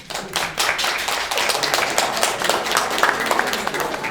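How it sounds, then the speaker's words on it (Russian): Audience clapping, quiet and muffled, in a steady rhythmic run of close claps for about four seconds with no talking. "Тихие, глухие, ритмичные хлопки."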